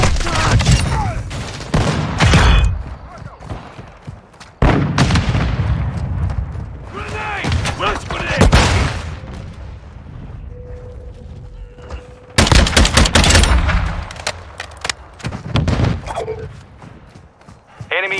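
Gunfire rings out in the video game Call of Duty: Modern Warfare 2, with dense bursts of automatic weapon fire and sharp shots in loud clusters, mixed with in-game radio voice callouts and quieter gaps between exchanges.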